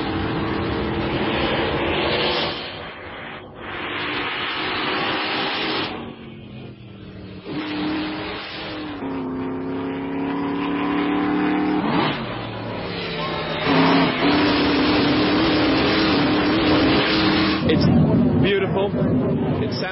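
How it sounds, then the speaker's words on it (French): A private historic Alfa Romeo racing car on the Goodwood circuit roars and revs through gear changes, its engine loud and near, with someone talking over it throughout. "Il eut l'occasion de piloter cette Alfa Romeo privée sur le circuit de Goodwood."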